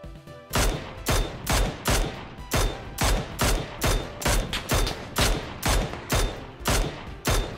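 Rapid gunfire in the video game PUBG: a dozen or so loud, sharp shots in a fast, even rhythm, close and clear, with no talking.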